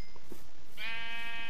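A sheep in the video game Papercraft Survival lets out a single loud, wavering bleat after a moment of game background noise.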